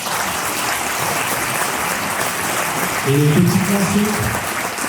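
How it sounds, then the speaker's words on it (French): An audience applauds an orchestra after an evening concert, dense steady clapping filling the room while someone speaks over it. "du coup vous pouvez encore les applaudir"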